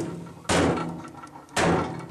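Two loud, hollow metallic bangs a second apart from a hand striking the side of a microwave, each a sharp close thump that rings briefly and fades.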